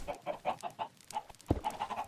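Clucking from a whole flock of chickens in the Minecraft video game, a run of short rhythmic calls broken by a brief pause and a louder burst, then more steady clucking.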